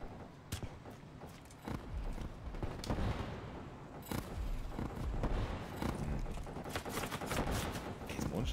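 Rapid gunfire from the video game Call of Duty Black Ops 3 crackles almost nonstop in dense, overlapping bursts, with sharp close shots standing out over a continuous din of distant fire and explosions.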